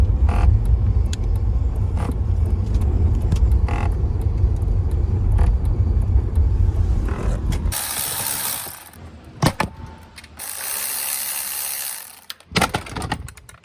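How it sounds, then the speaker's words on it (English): An Audi's HVAC blower motor runs with a steady low mechanical whir for several seconds, then cuts out, leaving intermittent clicks and bursts of rushing air. "there's this noise from somewhere in the HVAC system"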